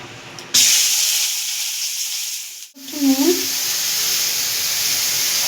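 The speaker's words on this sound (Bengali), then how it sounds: "তেল অল্প করে তেল দিয়ে আগে আমি গাজর আর বিনসটা ভেজে নেব" Carrots and beans hit hot oil in a pan with a loud, steady sizzle that runs on continuously, briefly dipping as the food is stirred, with a short voice heard over the frying.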